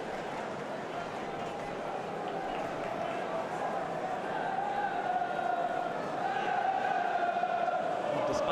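Swansea City football fans in a stadium crowd give a sustained roar of cheering and applause, swelling louder toward the end, with a commentator talking over it.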